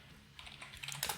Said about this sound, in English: Press the key up and type in sudo pacman -s VLC.